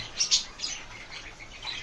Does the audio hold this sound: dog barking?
no